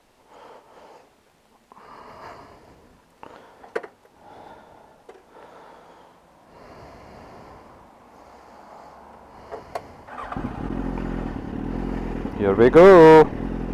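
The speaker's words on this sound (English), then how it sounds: "There's the wee scooter guy again." A small scooter on a street in Paisley, Scotland, arriving loud and close in the last few seconds with a rising engine buzz, after quiet breathing and a brief spoken phrase near the microphone.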